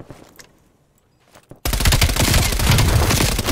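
An MP5 submachine gun in Black Ops Cold War fires about eight rapid shots in a loud continuous automatic burst, preceded by quiet footsteps and faint background noise.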